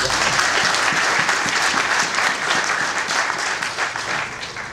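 Sustained audience applause at a book launch for a work on United Nations resolutions on the DRC, dense steady clapping filling the room throughout and easing slightly toward the end.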